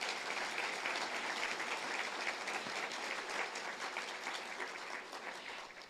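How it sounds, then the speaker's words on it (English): Sustained audience applause at an awards ceremony, a dense even clapping crowd heard at moderate distance that holds steady and tapers slightly at the end. "Let's give them all a round of applause."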